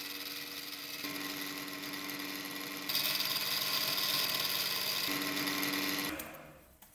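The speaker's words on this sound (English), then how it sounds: "we machine a flat surface on each end" A steady, high-pitched mechanical whine of a machine cutting a flat surface on the end of a metal part runs continuously, growing harsher partway through before winding down abruptly near the end.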